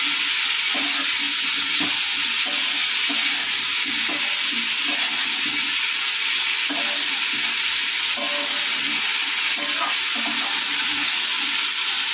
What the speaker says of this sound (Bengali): এবার ফুলকপিগুলো ভেজে নেব।